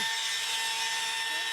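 A chainsaw bites into wood, a loud, dense, high buzzing rasp that holds steady and close for a brief moment.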